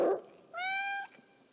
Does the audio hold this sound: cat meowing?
yes